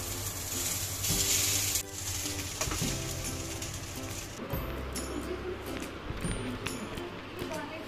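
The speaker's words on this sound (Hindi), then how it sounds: "इसको हम थोड़ा फ्राई करेंगे" Marinated tempeh frying in a pan with rice: a steady close hiss of sizzling runs throughout, with a clattery stirring patch early on and a few scraping knocks.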